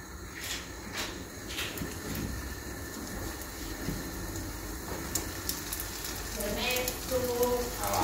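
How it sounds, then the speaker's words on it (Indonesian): Spring rolls fry in hot oil in a home kitchen, giving a continuous soft sizzle and crackle that grows a little louder and busier toward the end. "di sini aku mau goreng spring roll-nya."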